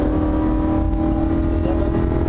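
Lamborghini Huracan on a racetrack, accelerating hard under throttle: a loud, steady engine roar with rising harmonic tones, close and continuous, with no talk over it.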